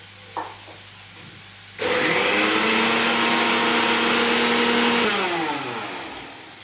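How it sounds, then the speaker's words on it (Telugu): A kitchen mixer grinder pulverises fried red chillies into powder. After a small knock, the motor roars on loudly and holds a steady, harsh whir for about three seconds, then winds down as it switches off. "ఇలా వేయించిన మిరపకాయలని చల్లారిన తర్వాత మనం మిక్సీలో వేసుకోవాలి,"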